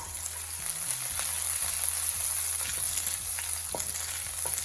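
Green chili and garlic fry on medium heat in a pan, a steady close sizzle with a few soft clinks and stirring scrapes, no voices.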